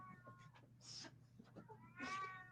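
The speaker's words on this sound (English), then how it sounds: "my cat is screaming" A cat yowls and screams in several drawn-out, wavering cries, fairly faint and intermittent, with a final louder wail near the end.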